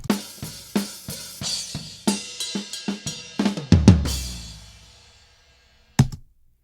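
A close-miked tom drum, recorded with a Samson Q7 microphone, struck repeatedly in an uneven pattern, each hit booming and decaying, with a long ring-out and one last isolated hit.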